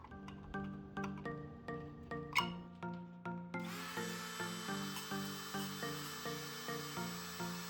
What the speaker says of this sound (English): ream it out, either with your drill bit, working it around a little bit, or with some other method like this Dremel tool